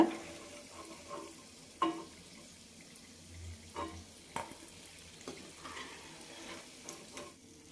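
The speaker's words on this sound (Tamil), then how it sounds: "மீதி இருக்கிற பிஸ்கட்டுகளையும் நம்ம பொறிச்சு எடுத்துடலாம்" Wheat-flour biscuits frying in hot oil in a home kitchen, a faint steady sizzle broken by a few soft clinks and stirs from the pan, with no talking.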